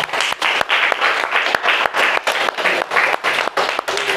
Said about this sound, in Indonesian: Kita beri aplaus untuk kelompok 1. Beri aplaus semuanya.